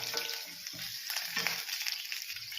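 Ginger, curry leaves and chana dal sauté in hot oil, making a soft continuous sizzle with faint stirring scrapes.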